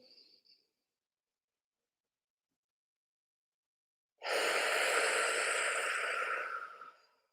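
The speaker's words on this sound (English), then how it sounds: "Take a nice deep breath in through your nose. Let it out through your mouth, nice and slow." A slow, deep breath let out through the mouth during a calming breathing exercise: one long, loud, airy exhale close to the mic, after a brief faint sound at the start and several seconds of near silence.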